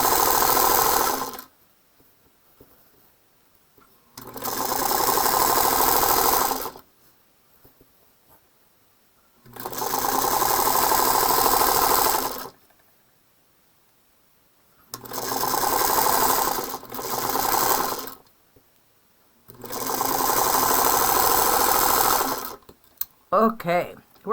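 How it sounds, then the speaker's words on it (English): A sewing machine stitches the border of a fabric placemat without back-tacking, running in five separate steady bursts of a few seconds each, with quiet pauses between them. "I don't back tack because I'm going to sew over those again."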